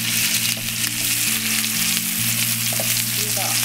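Lamb chops sear in a hot pan of oil and butter, giving a steady, loud sizzle and crackle that runs unbroken throughout, with no voices over it.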